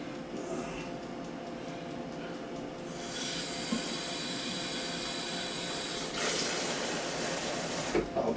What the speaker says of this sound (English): Put the kettle on. Put a bit more water in that.